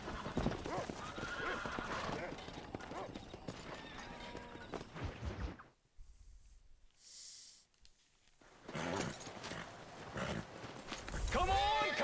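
Horses in the Red Dead Redemption game neigh and whinny repeatedly over steady clip-clopping hooves, dropping to a brief quiet lull midway before loud hoofbeats and whinnies return, with people talking throughout.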